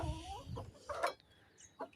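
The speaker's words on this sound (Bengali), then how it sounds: "এখন আমি আমার মুরগিগুলো সব মুরগিগুলো ছেড়ে দিলাম" Backyard hens cluck softly just after being let out to feed, a few short, quiet clucks and murmurs close by in a calm setting.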